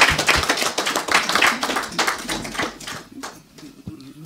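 Scattered audience clapping at a book presentation event, a burst of hand claps that thins out toward the end, fairly close and moderately loud.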